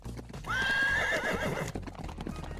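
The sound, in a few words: horses neighing and hooves clip-clopping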